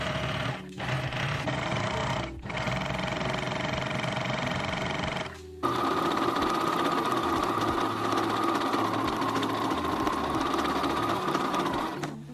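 Sewing machine stitching a small fabric ruffle onto a summer waistcoat, a continuous close mechanical whir with two brief pauses early on, then a faster, louder run to the end.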